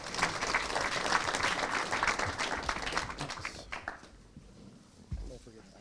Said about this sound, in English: And you can give him a round of applause.